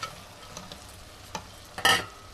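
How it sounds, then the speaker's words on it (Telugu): Fried chicken lollipops go into a simmering home-style Telangana curry gravy, with soft stirring and scraping in the pot followed by a brief, louder sizzling splash near the end. "ఇప్పుడు మనం ముందుగా ఫ్రై చేసుకున్న సో లాలీపాప్ ఇందులోకి యాడ్ చేసుకుందాం"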